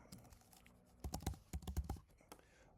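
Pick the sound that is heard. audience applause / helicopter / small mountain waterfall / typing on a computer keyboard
typing on a computer keyboard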